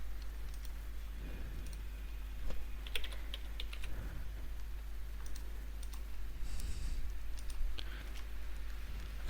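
Fingers typing on a computer keyboard to enter a business address: a steady run of quick, light key clicks with occasional louder taps, heard close over a constant low hum, with no talking.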